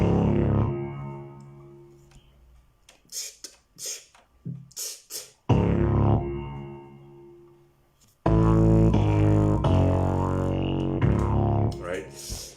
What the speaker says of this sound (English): a sub bass and a phaser piano